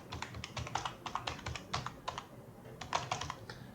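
Someone types on a computer keyboard while entering a domain record, with quick irregular keystroke clicks in short bursts and a brief pause, close and fairly quiet.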